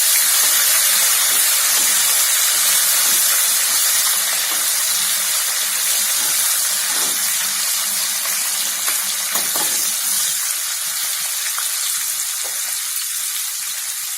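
Thinly sliced onions sizzle and crackle steadily in hot oil in a pan for a chicken gravy, with a dense, continuous hiss and occasional pops close up, with no talking.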